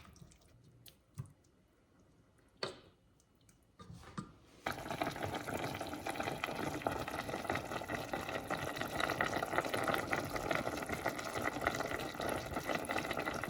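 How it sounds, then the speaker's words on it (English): Sliced beef drops into a pan of tender onions for gyudon, a few soft drips and taps first, then a steady bubbling sizzle that fills the rest, fairly quiet. "Once the onion is tender, add the beef, separating the slices as you put it in"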